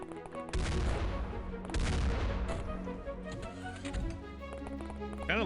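Enemy Magnum shots in X-COM Files ring out as a few sharp, fairly loud reports over a steady game soundscape of ticks and hums, with no talking.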